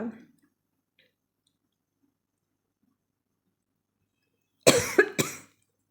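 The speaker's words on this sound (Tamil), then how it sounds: "கண்டினியூஸாக பேசும்போது அப்படியே இருமல் வேறு வருது" Two sharp coughs from a person, close to the microphone, one right after the other, following a long stretch of near silence.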